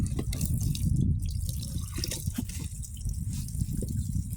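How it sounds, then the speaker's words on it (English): Water trickles steadily from a partially shut-off city tap into a 1 gallon container during an ice storm, a continuous close splashing stream with no talk. "you can see how long it's taking to fill this 1 gallon container"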